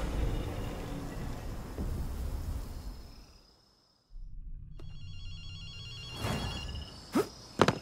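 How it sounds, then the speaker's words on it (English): A telephone rings with short electronic bursts in the video game Ghostwire after a brief silence, over a low ambient hum and a few sharp incidental sounds. "Akito, you hear a phone ringing?"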